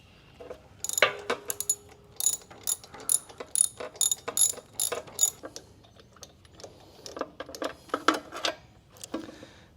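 Ratchet wrench loosening 13/16 spark plugs on a John Deere 717A mower, giving irregular bursts of sharp, close metallic clicking pawl ratchets with short pauses between strokes.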